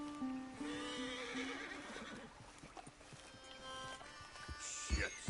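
A horse in Red Dead whinnies loudly with a drawn-out neigh, then hooves clip-clop and shuffle nearby, with a sharp snort near the end.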